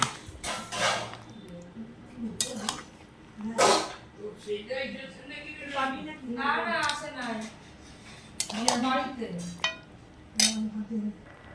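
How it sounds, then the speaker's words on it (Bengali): Mutton is moved into a pressure cooker with repeated metallic clinks and pot-and-utensil clatter in uneven bursts. A person speaks in between and over the noise, close and moderately loud. "এবার মাংসটাকে আমি প্রেসারে দেব।"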